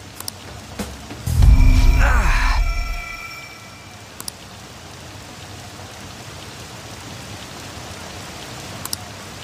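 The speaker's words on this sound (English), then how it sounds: "This rain ain't too bad." Steady in-game rain from Persona 5 hisses evenly throughout, interrupted early by a loud, drawn-out crowing-like call lasting about a second, then continuing alone with a couple of faint clicks.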